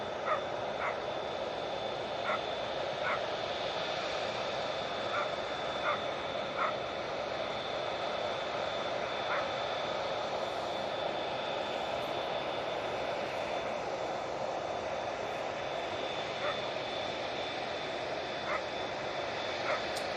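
A Finnair airliner departs Manchester Airport under a steady engine roar while a dog barks repeatedly in short bursts nearby.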